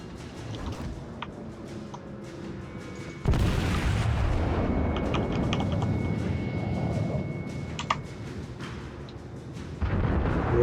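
Naval gunfire from warship guns in World of Warships, a heavy booming salvo that erupts suddenly and sustains a loud rumbling roar, with a further thump later.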